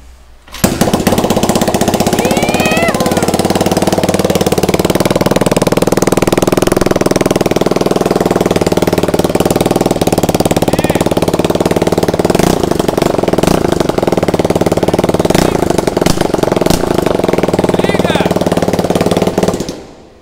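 Honda Titan motorcycle engine with an inverted 353 setup, started and running loud and steady close by for about twenty seconds, with a harsh, rapid firing rumble and occasional revving.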